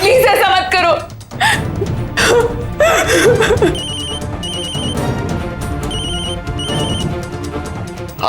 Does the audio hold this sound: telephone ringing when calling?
yes